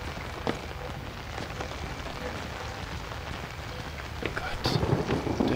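Steady heavy rain pours in the horror video game Outlast, a dense continuous hiss with a low rumble of thunder swelling near the end.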